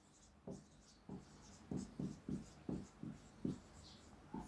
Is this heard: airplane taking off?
no